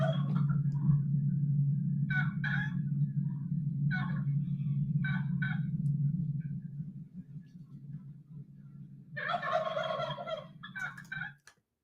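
A wild tom turkey gobbles in bursts of rapid rattling calls, heard several times over a continuous low hum from playback, with a longer gobble near the end before the sound cuts off.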